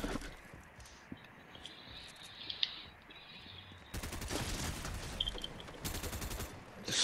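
Bursts of rapid gunfire in Fortnite, a few faint scattered shots at first, then heavy sustained volleys of close automatic fire broken by short pauses.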